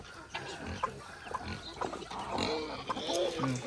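Free-range pigs and piglets feeding on a farm, with close grunting and snuffling sounds over steady munching, while chickens cluck nearby in the background.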